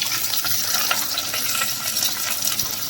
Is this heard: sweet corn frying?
yes